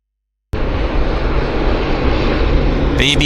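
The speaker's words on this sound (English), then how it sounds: "Air Canada Jazz Q400, landing very purposefully." Air Canada Jazz Q400 turboprop landing at Vancouver airport, a loud steady propeller and engine roar that starts abruptly and holds throughout, with a brief higher whine near the end.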